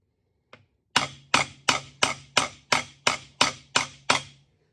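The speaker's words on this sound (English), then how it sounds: "I'm hitting it with a copper hammer" A small copper hammer strikes a metal milling machine motor pulley ten times in a steady rhythm, each tap sharp and ringing briefly, close by, with one lighter tap before the series.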